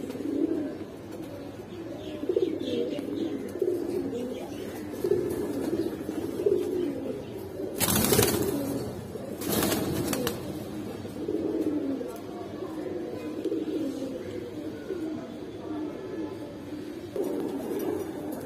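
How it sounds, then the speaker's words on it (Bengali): Flying Giribaz pigeons, ring-necked and green-necked pairs, coo steadily, with two sharp broad bursts of wing flapping near the middle and faint voices in the background. "হ্যাঁ, উড়ানো কবুতর এগুলো"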